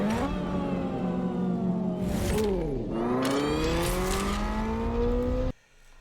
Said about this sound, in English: did you hear it? It was sound shifting.